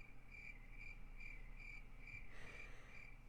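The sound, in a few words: crickets chirping sound effect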